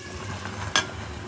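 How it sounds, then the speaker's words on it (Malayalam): Puri dough frying in hot oil at home makes a steady soft sizzle and bubbling, with one brief sharp crackle or spatter partway through, fairly quiet and close, with no voices. "ഇതാ ഇവിടെ എണ്ണ പൂരി ഉണ്ടാക്കുന്നുണ്ട്"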